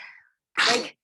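A single quick sneeze, sharp and close, preceded by a brief breathy intake, in a quiet room during a talk.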